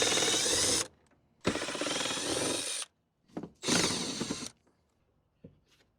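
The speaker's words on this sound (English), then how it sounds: "I love the just keep pulling screws till it comes out." A power drill backs screws out of an Airstream RV air conditioner in three long, loud whirring runs, with short gaps and small clicks and knocks between them.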